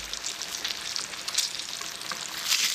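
Fish shallow frying in a pan of oil, a dense steady sizzle with crackling pops, close and continuous with no voices.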